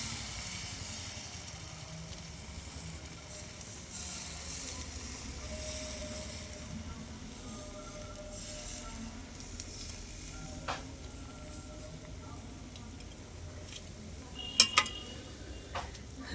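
Patishapta pitha batter sizzles steadily in a hot pan, a soft continuous frying crackle with a few sharp clicks of utensils near the end, no talking.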